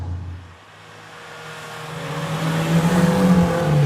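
A BMW E30 M3 with a 2.5-liter engine accelerates, its exhaust note climbing steadily in pitch and growing louder after a brief lull, a close, raw rising engine tone with no talk.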